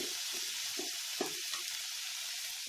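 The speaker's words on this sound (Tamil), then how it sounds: "பீட்ரூட்டு இதில் நல்லா போட்டுட்டு நல்லா நல்லா வதக்கணும்" Beetroot sautés in a pan for a vegetable samosa filling, a steady close frying hiss with faint intermittent stirring.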